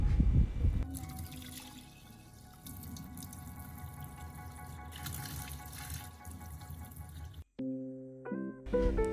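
Water draining and running over soaked glass noodles being rinsed clean, a close splashing, trickling flow with faint tonal clinks, stopping abruptly near the end before a brief clatter.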